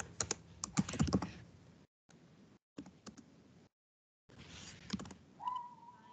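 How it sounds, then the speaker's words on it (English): Bursts of quick keyboard typing on a computer, close and moderately loud, separated by short silent pauses, with a brief rising whistle-like tone near the end. "so you can just delete and type in there"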